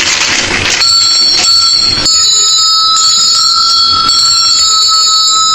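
Bells ring out in bright, sustained metallic tones, struck several times in succession, close and loud with overlapping lingering rings.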